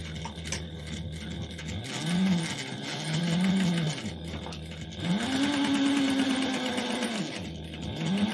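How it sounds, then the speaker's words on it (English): A sewing machine stitches a fabric clutch wallet in three steady motorized bursts, the longest near the end, with backstitching at the start and finish and short pauses between runs. "And we're going to sew 1/8 of an inch down and across."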